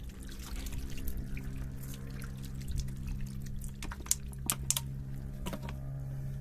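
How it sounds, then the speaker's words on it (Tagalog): Hot water being poured, a steady liquid wash with a few sharp drips and splashes near the end, set against a constant low hum during a car tire change. "Natin lagyan ng tubig at mainit."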